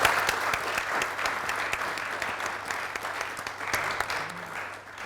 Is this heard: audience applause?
yes